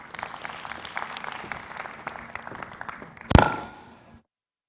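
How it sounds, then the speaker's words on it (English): An indoor audience at a smart card launch event claps in steady, moderately distant applause, ending with one sharp close clap before it stops. "Another round of applause, ladies and gentlemen."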